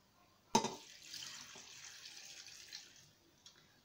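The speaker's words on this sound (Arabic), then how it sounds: "غادي نزيدو الماء" Water pours into a cooking pot during couscous preparation, starting with a sharp splash and then a steady running stream for a few seconds before tapering off, with a faint clink near the end.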